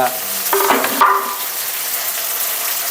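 Finely chopped tomato sizzles in hot oil over low heat, with a brief clatter of stirring near the start before the frying settles into a steady hiss.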